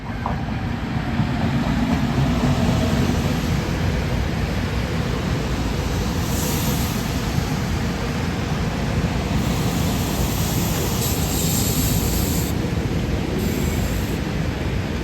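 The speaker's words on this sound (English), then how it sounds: "I could take this train pulling in right now." A SEPTA Silverliner IV electric multiple unit built in 1974 pulls into a Philadelphia-area station, a loud steady rumble and rush of wheels and motors with high squeals rising intermittently over the continuous roar.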